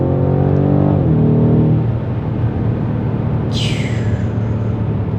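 A BMW M5 Competition F90 sedan accelerating hard in fourth gear from about 2500 rpm, its engine note loud and close with a rising growl and a brief high whine near the end.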